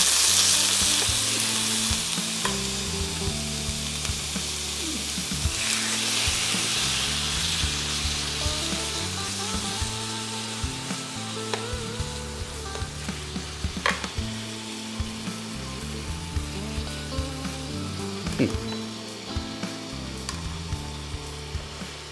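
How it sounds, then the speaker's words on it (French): Pieces of beef for beef stroganoff brown in a pan with a loud, constant sizzle and occasional stirring scrapes. Steady music plays underneath. "on va faire revenir tous ces morceaux de viande"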